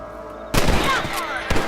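A sharp rifle or revolver shot in Red Dead Redemption, enhanced for Xbox One X, cracks out of a quiet backdrop, followed by a second, softer report about a second later, with an outdoor echo trailing.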